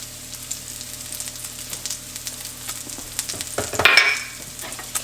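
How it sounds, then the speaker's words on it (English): Bacon and garlic fry in a pan with a steady crackling sizzle, stirred now and then, building to a louder burst of spattering near the end. "our bacon is getting nice and crispy"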